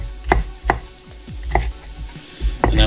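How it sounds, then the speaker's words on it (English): Knife chopping through roasted red peppers on a board, about five distinct cuts at an uneven pace, close and fairly loud with no talking. "So just cutting through them to make them smaller"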